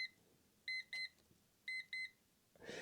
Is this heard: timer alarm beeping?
yes